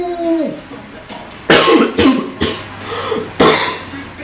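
A person coughs and sputters in a choking fit, several harsh, loud coughs in bursts at close range, with a brief vocal sound at the start.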